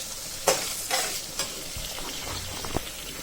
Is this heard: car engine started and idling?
no